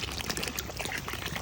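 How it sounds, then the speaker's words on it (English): Brown sugar water glugging from two bottles into a big 10-gallon jambalaya pot already holding chicken stock, a steady continuous pour with splashing and trickling throughout. "Now we're going to hit it with 2 bottles of that brown sugar water"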